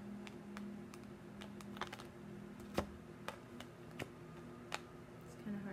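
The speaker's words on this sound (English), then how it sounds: "I'm just gonna move these cards out of the way." Tarot cards are moved aside on a table, giving faint, sparse taps and clicks spread over a few seconds against a quiet, steady background hum.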